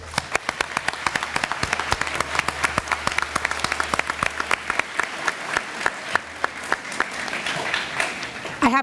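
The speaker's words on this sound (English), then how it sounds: "I want to give them a round of applause." Applause at a school committee meeting in Lawrence, Massachusetts, a modest room of people clapping in sharp, scattered claps that thin out toward the end before a voice returns.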